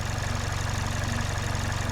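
A car engine idles steadily at about 800 RPM in park after ten minutes of running, with fresh premium fuel injectors fitted, giving a close, even low throb with regular pulsing and no talk.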